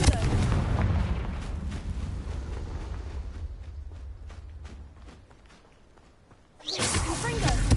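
Confringo fire-blast spell exploding in Hogwarts Legacy on PS5, heavy rumbling blasts that fade over several seconds before another loud burst hits near the end, with game voices mixed in.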